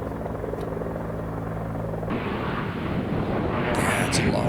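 A large firefighting helicopter thumps overhead while dumping water on a wildfire, steady rotor drone and whine giving way to a broad rushing wash that swells louder toward the end.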